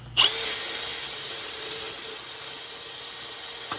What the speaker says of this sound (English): I'm going to drill a hole in the area that has no markings.